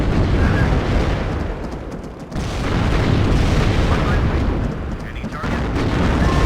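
Heavy explosions and rumbling impacts from an A-10 strafing run roll on almost continuously in the WARNO real-time strategy game, loud and dense, with a short dip midway, while a player speaks over them.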